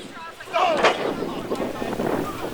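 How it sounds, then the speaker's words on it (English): Strong wind blowing at an outdoor pro wrestling event, a steady broad roar that buffets the microphone and swells midway, loud and close. "that wind is really going"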